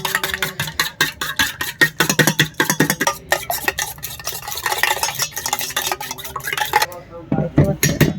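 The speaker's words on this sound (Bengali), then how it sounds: "ডিমের মধ্যে আমরা দিয়ে দিচ্ছি সাদা তেল, সামান্য পরিমাণে একটু লবণ দিয়ে দেবেন। এটাকে আমরা ভালো করে মিশিয়ে নেব।" Beaten egg being mixed with white oil and a pinch of salt in a bowl, rapid rhythmic clinking of a utensil whisking against the bowl, close and fairly loud, easing off near the end.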